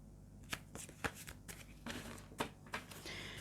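Tarot cards are shuffled by hand in a run of crisp, papery riffles and soft taps, close and fairly quiet, with no voices.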